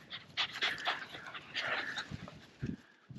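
A small 9.6 kg cocker spaniel bitch working end-of-season pheasant and partridge shoots gives soft whimpers and panting sounds, close and moderately loud, with brief yips near the end.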